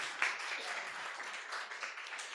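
Congregation applauding at a church worship service, a brief burst of dense clapping with some voices mixed in, moderately loud across the whole moment.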